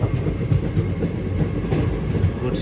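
Goods train carrying army lorries rolling past nearby, a loud, heavy low rumble with steady rhythmic clickety-clack of wheels over rail joints throughout.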